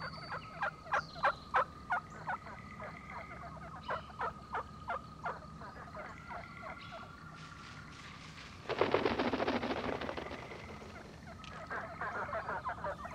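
Wild turkeys at their roost give a series of short, sharp clucks and calls in rhythmic bursts, followed by a louder flurry of rustling and flapping, heard close and alone.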